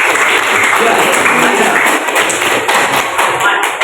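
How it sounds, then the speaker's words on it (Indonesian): Classroom applause for a group of student presenters, a steady wash of many hands clapping throughout, loud and continuous. "Kita beri aplaus untuk kelompok 1 yang telah."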